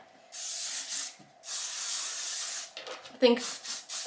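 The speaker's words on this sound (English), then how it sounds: "I spray this all over my freaking head." Several long hissing bursts of hair spray from an aerosol can, one after another with brief pauses, close and fairly loud, ending with a few shorter puffs and a faint voice.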